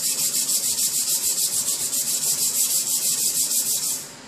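Rapid, rhythmic abrasive rubbing as 60 grit sandpaper works an aluminum Edelbrock Victor X intake manifold port, steady close strokes about five per second that fade slightly at the end, with no voices.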